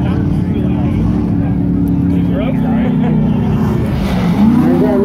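Off-road 4800-class race cars at a Prairie City rock-racing heat roar toward the finish line, a loud, continuous engine drone that rises near the end, with a commentator talking over it.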